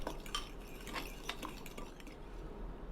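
A utensil stirs a soy sauce marinade together in a bowl, giving close, steady clinks and scrapes in a quick irregular rhythm.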